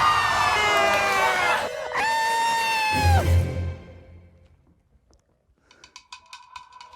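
A live audience screams as a drag queen falls on stage, loud high-pitched shrieks rising then cutting off, followed by near silence and faint scattered crowd noise.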